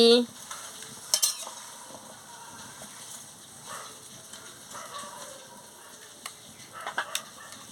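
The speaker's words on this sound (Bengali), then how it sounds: "এসব সবজিগুলো ঢেলে দিচ্ছি মতো নুনটাও দিয়ে দিচ্ছি ভালো করে নাড়িয়ে নিচ্ছি" Mixed vegetables with salt are stirred in a frying pan for a Bengali chorchori, giving soft scraping and occasional sharper clinks of the spatula over a low sizzle, close by.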